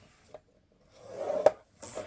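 A blade scores a board piece for album construction in two short rasping strokes, each a brief dry scrape with a small tap, close and isolated in a quiet room.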